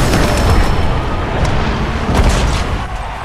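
Explosion spell cast in the video game Final Fantasy VII Rebirth: a loud, sustained blast of rumbling booms and crackling bursts that fills the whole stretch without a pause.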